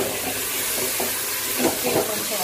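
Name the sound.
tomatoes sautéing in pan for chicken biryani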